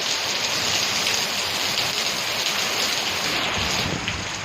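Heavy rain pours down in a dense, constant roar amid stormy wind, with a low rumble of thunder beneath it; no one speaks.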